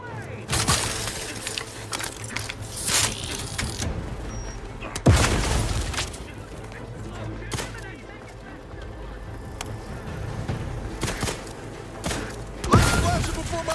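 Grenade blasts and bursts of gunfire in The Outer Worlds 2 combat, several sharp booms and crackling shots over a low rumble, with voices calling out between them.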